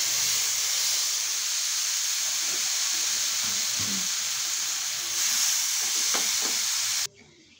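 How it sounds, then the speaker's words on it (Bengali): Chicken pieces fry in butter in a pan, a steady loud sizzle and hiss with occasional stirring scrapes, cutting off abruptly near the end. "আবার এর মধ্যে দিয়ে দিচ্ছি একটু বাটার। এর মধ্যে এবার চিকেন পিসগুলো দিয়ে দিচ্ছি।"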